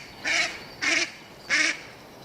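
Ducks on a canal in winter quack three times in a row, evenly spaced and fairly close, each call a short nasal burst over a quiet background.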